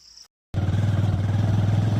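Motorcycle engine running steadily at close range during a ride on a rural road toward Rajamantar, after a brief silent gap, with a continuous low throbbing drone and a faint rhythmic pulse.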